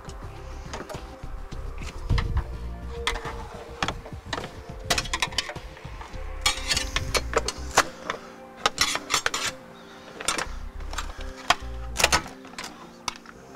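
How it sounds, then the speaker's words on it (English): A flat blade screwdriver pries up plastic corner trim on a 2010 Mazda CX-9, giving a run of close, sharp clicks and snaps as the fasteners release, with scraping and rubbing in between. "we're just going to use a flat blade screwdriver, prying up, releasing the fasteners underneath"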